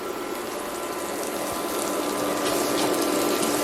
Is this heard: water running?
yes